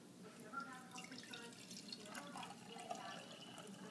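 Water is poured into a small vintage blue and white swirl enamel coffee pot with a gooseneck spout, a faint, continuous trickle and light splashing that stays quiet throughout.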